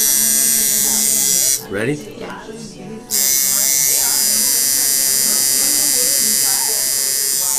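A tattoo machine buzzes steadily and loudly close by as the needle tips work into skin, its drone pausing briefly near the middle before resuming, while people talk over it.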